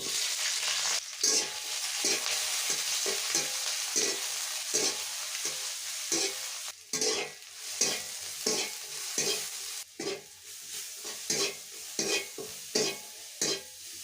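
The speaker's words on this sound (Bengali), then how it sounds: "তেল গরম হয়ে গেছে। এখন আমি পেঁয়াজ রসুন ছাড়ি দিই।" Onion and garlic sizzling in hot oil in a wok, a steady bright frying hiss broken by repeated scraping stir strokes at an irregular rhythm, close and moderately loud with no talking.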